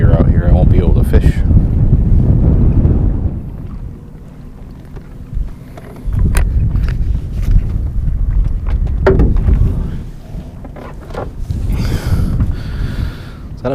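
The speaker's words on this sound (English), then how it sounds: "it gets too much windier out here. I won't be able to fish" Wind gusting across open water around a fishing boat, a loud low rumbling roar of microphone buffeting that swells and drops in waves throughout, with no talk.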